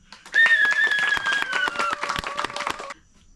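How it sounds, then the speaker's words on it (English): Clapping from a small audience at an off-grid reforestation commune, a burst of claps lasting under three seconds with a few high voiced whoops or cheers riding over it before it cuts off. "Please clap your hands for the parents."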